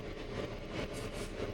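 Inside a new, modern train moving through Russia, a constant low rumble and rushing hum fills the carriage, steady and fairly quiet with no voices.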